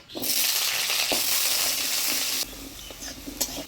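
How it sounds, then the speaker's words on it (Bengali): Potatoes frying in a pan of hot oil for a Bengali jackfruit curry, a steady close sizzle with scattered stirring clinks; the sizzle drops lower partway through. "এবার নামিয়ে তুমি আলুগুলো ভেজে নিবে।"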